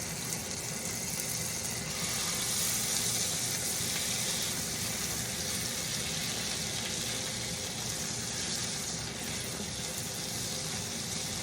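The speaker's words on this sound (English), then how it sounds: "into the butter, we are going to add a nice squeeze of garlic" Garlic sizzles in melted butter for a Chicken Alfredo, a steady, close hiss with soft crackle running evenly for over ten seconds, with a low background rumble beneath.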